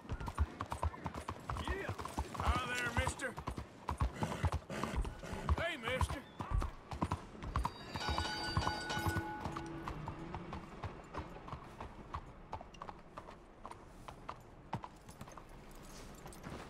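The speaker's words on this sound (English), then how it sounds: "My totally inconspicuous all white horse." Hooves clip-clop at a steady walking pace in Red Dead Redemption 2, with a white horse whinnying briefly and a voice talking over the rhythmic steps.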